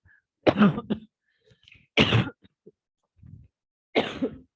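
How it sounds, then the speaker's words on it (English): Three loud, harsh coughs from a lecturer with a severe cough during a math lecture, close to the listener, spaced about a second and a half apart, with quiet pauses between them. "Actually I have severe cough actually."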